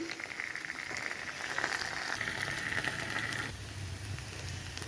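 Potato, onion and green chilli frying in mustard oil with ginger-garlic paste just added, a steady soft sizzle and crackle, close and continuous with no talk.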